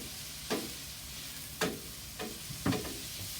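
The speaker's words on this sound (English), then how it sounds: "we're going to let these onions soften" Onions softening in a pan in a yacht galley, cooked for Greek tacos: a soft steady sizzle with four brief scraping stirs spaced about a second apart, no voices.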